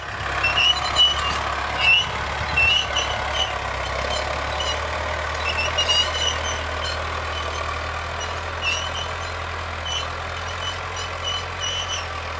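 A tractor ploughs a field with a continuous low engine drone, joined by intermittent higher tonal beeps and small surges in loudness.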